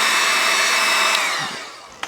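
A heat gun warms tinted window film on an Audi car window: a steady, close, loud blowing hiss that eases off and fades in the last second, with a small knock near the end.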